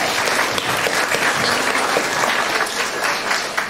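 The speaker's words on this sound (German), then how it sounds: "einen großen Applaus an die Gruppe Webseitenaktualisierung" A crowd applauds for a group of young participants about to present their website-updating project at a youth hackathon in Hamburg; dense, steady clapping fills the whole stretch at close range without a break.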